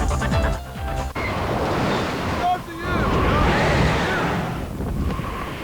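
Steady wind rushes and buffets the microphone, mixed with rolling surf noise, loud and continuous with no voices.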